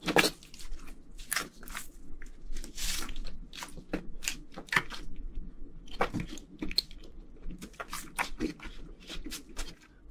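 Chewing kkotppang steamed flower bread with spicy mala pork trotters, close and quiet, with soft crunchy bites and wet squishy mastication in irregular bursts over a near-silent background.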